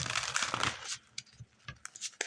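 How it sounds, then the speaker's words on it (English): Shadowscapes tarot cards being shuffled, a dense papery riffle and rustle that fills the first second, then scattered soft card taps and slides that trail off. "One more shuffle and we'll get into it."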